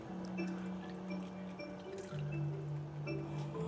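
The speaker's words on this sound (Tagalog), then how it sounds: "lalagyan na natin siya ng tubig" Water poured into a pot of simmering pork dinuguan, a steady liquid splash and trickle close by, fairly quiet and continuous.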